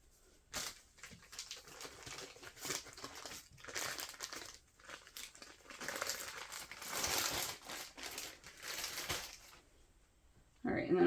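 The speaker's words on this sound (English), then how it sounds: "I'm going to trim my webbing off" Nylon webbing for a dog leash being trimmed and handled: a long run of crinkling, rustling and scraping, with short quiet pauses between the bursts, close and moderately loud.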